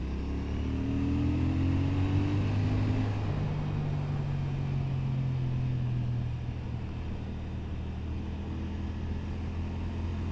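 A Royal Enfield Shotgun 650 motorcycle engine while riding along tight country lanes, a steady low droning hum with pitch rising and easing as the throttle changes, close and continuous with wind noise and no voices.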